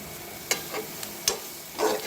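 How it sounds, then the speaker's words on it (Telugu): Sliced onions and grated coconut fry in oil for a fish dish, a constant sizzle punctuated by three or four sharp spoon strokes against the pan, close and clear, without talk. "కొబ్బరి కూర కూడా ఉల్లిపాయలు కూడా ఫ్రై అవుతున్నాయి కదండి"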